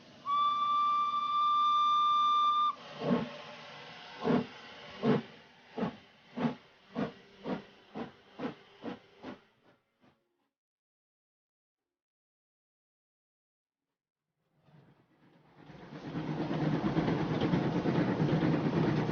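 Steam train whistle blasts, then a series of about ten chuffs speeding up and fading out, followed by silence and a loud rushing hiss of a train running.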